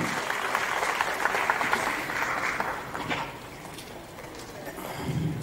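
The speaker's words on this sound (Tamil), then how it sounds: "நல்ல கைத்தட்டல் சார் கொடுங்க சார்" Audience applause at a Tamil film launch event, steady dense clapping throughout that thins slightly midway and swells again, with a crowd murmur beneath.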